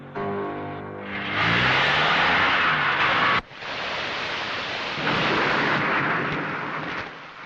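A thunderstorm with rain in a Telugu feature film, Theerpu: soft music gives way to a loud rolling thunder crash, then another sharp clap followed by heavy rain roaring steadily, with no talking.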